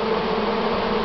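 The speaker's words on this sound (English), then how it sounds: "To watch the bees come in, heavy and full, fat, butt down with nectar." Honeybees returning to the hive heavy with nectar make a steady close buzzing hum, many wings droning together without a break.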